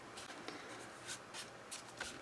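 A scissors edge is rubbed across folded paper to firm the crease, giving faint, close scraping strokes in a loose rhythm of several short swipes.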